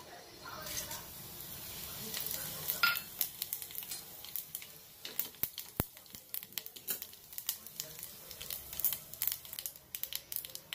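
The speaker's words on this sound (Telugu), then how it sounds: "నూనె వేడెక్కినాక ఒక రెండు ఎండుమిరపకాయలు ఆవాలు జీలకర్ర ఈ పోపు గింజలు వేసేసుకో." Dried red chillies, mustard seeds and cumin seeds hit hot oil in a pan for a bottle gourd dal tempering, giving a soft sizzle and then a growing run of sharp crackling pops and utensil clinks up close.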